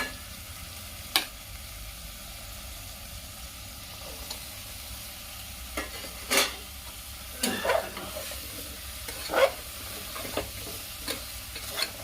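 Chopped vegetables for sambhar are tossed into a hot pan and stirred, with a low background sizzle broken by scattered scraping clacks of the spoon, some louder and clustered toward the middle and end.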